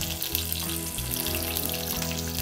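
Green chilies hit hot oil already tempered with seeds for a cabbage-potato sabji, giving a steady, close crackling sizzle throughout, with faint tonal music underneath.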